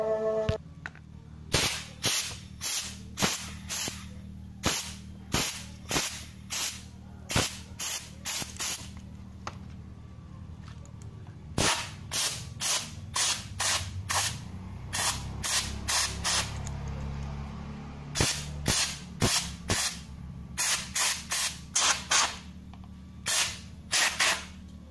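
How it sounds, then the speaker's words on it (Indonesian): Sharp knocks tapping on a Yamaha R25 motorcycle part, loud and close, come in quick bursts of several evenly spaced hits separated by short pauses, with no talk. "Kalau sudah gini ya kita ketok-ketok dulu,"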